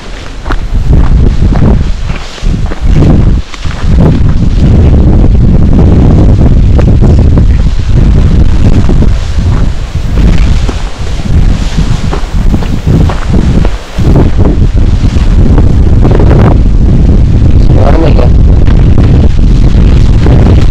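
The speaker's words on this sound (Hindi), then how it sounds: "क्या हवा चल रही है।" Strong wind gusts across a wet mountain trail on a rainy-season trek to Bazmar Top near Kokal, Abbottabad, roaring loud and steady against the microphone for the whole stretch with brief dips, and no talking.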